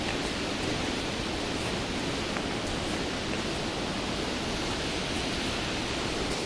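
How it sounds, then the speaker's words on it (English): A small waterfall swollen by rain rushes steadily and loudly at Glen Helen, Isle of Man, a dense unbroken splashing roar with no voices or pauses. "And this little waterfall here, swelled up by yesterday's rain."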